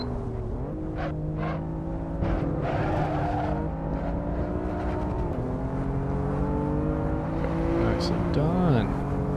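A BMW M4 on the Nürburgring, engine note dropping steadily as the car brakes hard and downshifts, a loud continuous drone from inside the cabin with a driver talking over it.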